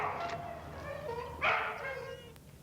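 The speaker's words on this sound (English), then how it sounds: "What are they doing to that dog?" A dog gives a few yelping barks and whimpering cries at moderate distance, rising to a sharper yelp midway, in a neighborhood of houses.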